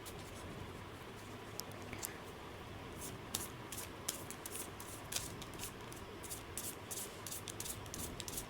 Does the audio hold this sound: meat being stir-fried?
no